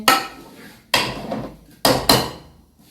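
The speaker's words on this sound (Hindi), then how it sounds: "ये देखिए, चम्मच हम हिलाते रहेंगे।" Metal spoon scraping and knocking in a pan while roasting semolina (sooji) for chana dal barfi, with three or four sharp clattering strokes, each fading quickly, close and fairly loud with no voices.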